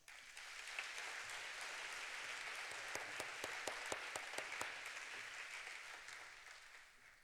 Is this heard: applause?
yes